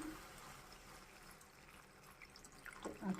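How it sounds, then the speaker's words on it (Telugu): A small glass of water goes into a pan of frying stuffed brinjal and pea curry, a faint steady pour that grows into a louder splash and sizzle near the end, with no voices. "నేను ఒక చిన్న గ్లాసు వాటర్ వేసుకుంటానండి"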